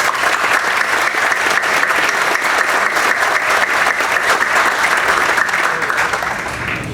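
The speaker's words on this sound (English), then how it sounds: "I think we should give him a big round of applause" Sustained, loud crowd applause at a civil and environmental engineering building grand opening ceremony, dense even clapping for the whole stretch with little talk.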